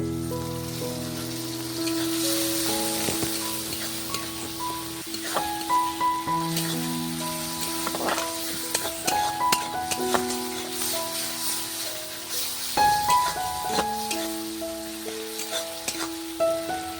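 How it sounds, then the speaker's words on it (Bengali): Ginger-garlic paste fries with onion and tomato in hot oil for a fish curry, a steady close sizzle broken by scattered knocks and scrapes of a spatula against the pan. "আদা রসুনটাকেও ভালো করে পেঁয়াজ টমেটোর সাথে মিশিয়ে ভেজে নেব"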